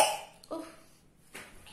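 A person gives short coughs at close range, three brief quiet bursts spaced about half a second to a second apart in an otherwise still room.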